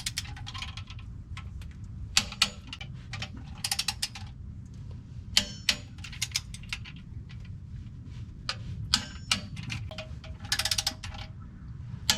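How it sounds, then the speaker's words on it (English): Torque wrench tightening bolts to 57 foot-pounds on a Cummins NV5600 transmission adaptor plate: sharp, irregular ratcheting clicks and creaks rise out of a quiet low rumble, close up, with no voices. "now we are going to torque all these to spec, which is 57 foot-pounds"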